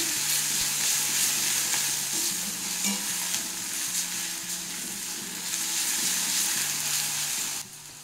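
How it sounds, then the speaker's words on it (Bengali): Ground spice paste of coriander and chilli with turmeric powder frying in a pan, giving a loud, continuous bright sizzle with light stirring, the hiss dropping abruptly near the end. "মশলাটা একটু ভেজে নেব জল দিয়ে"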